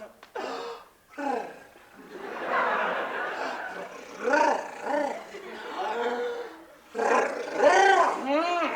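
An actor on stage in A Midsummer Night's Dream roars in imitation of a lion, a series of loud growling vocal bursts mixed with voiced talk and some audience chatter.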